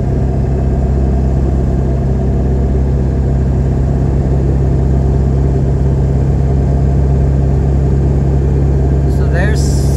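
A 7.3 Powerstroke diesel truck with 4.88 gears and 40-inch tires cruising at about 70 mph, a steady loud low drone and rumble of engine and road noise throughout, with a brief higher rattle near the end.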